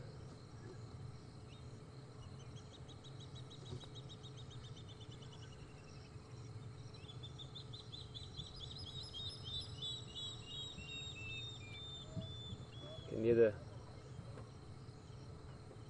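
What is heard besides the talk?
spotted thick-knees calling at night among crickets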